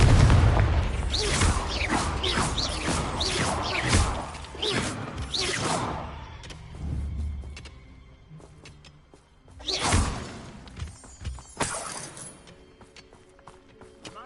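A Confringo fire spell in Hogwarts Legacy bursts in a string of whooshing explosive booms, rapid at first, then two more separate heavy blasts later over low game ambience.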